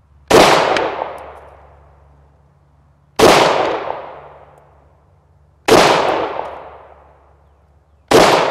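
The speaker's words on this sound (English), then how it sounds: "So I'll go ahead and take some shots and see if what I can get as far as accuracy out of it." Three sharp, loud Excel Arms Accelerator pistol shots fired outdoors at an even pace, each a hard crack with a long decaying tail, followed by the start of a fourth.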